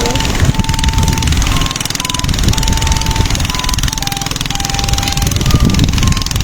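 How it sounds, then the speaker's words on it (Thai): Longtail fishing boat engine heading out to sea off Jomtien Beach, a loud, steady mechanical drone with a rattling throb that holds throughout, with faint speech-like sounds mixed in. "เรือกำลังออกไปหาปลาแล้วค่ะ เรือหางยาว"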